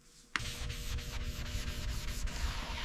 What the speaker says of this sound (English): Hours of sanding. My arms ache, but the result is worth it.